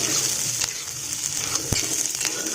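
Close, steady sizzling of something frying in a pan for paneer gravy, with a few soft clicks and taps of stirring.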